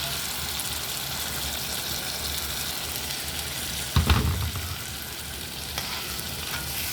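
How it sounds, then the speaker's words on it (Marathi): Ground masala paste hits a hot pan with a sudden burst of sizzling that settles into a steady frying hiss, close and fairly loud, with a spoon stirring through it. "आणि आता याच्यात आपण टाकूया वाटण टाकूया."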